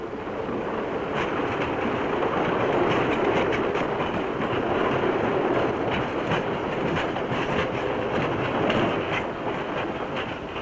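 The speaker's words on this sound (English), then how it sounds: "the train arrives at Carcross on the northern tip of the lake" A White Pass railroad train rolls in steadily at Carcross, its wheels clattering in a continuous rhythm that stays fairly loud and close throughout with no talking.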